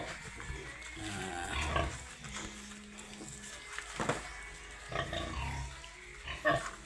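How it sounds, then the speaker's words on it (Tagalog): Newborn piglets of a freshly farrowed sow in a pig pen, with scattered grunts and squeals, moderately close and mixed with background farm noise and some human voice. "Padidi tayo mga ka-farmers sa ating biik."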